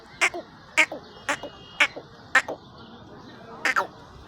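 A duck quacks in short bursts, about six or seven loud, close quacks at a steady pace with a quick double call near the end, in a quiet outdoor setting.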